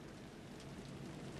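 Steady rain pours in Alan Wake 2, a dense, even hiss of drops hitting surfaces that holds at a constant level for the whole stretch, with no voices or other sounds cutting through.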